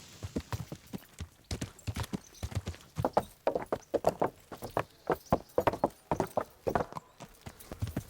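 Steady clip-clopping of horse hooves at a walking pace in the video game Kingdom Come: Deliverance, close and distinct, with regular rhythmic beats and no talking.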